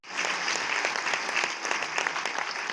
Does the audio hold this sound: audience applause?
yes